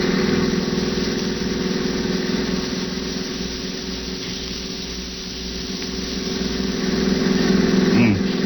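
A car engine runs steadily while driving on a road at dusk, a continuous low drone that swells slightly near the end, with no speech over it.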